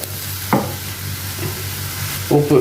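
Masala for prawn thokku is stirred and fried in oil in a pan, making a soft continuous sizzle broken by a few louder scraping stirs near the start and at the end.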